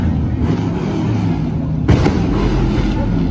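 A car revs loudly and roars steadily at an outdoor sliding pit, with a sharp burst of engine noise near the middle over constant crowd rumble.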